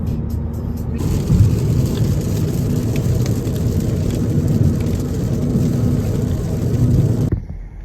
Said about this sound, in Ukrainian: Перший дощ за три місяці.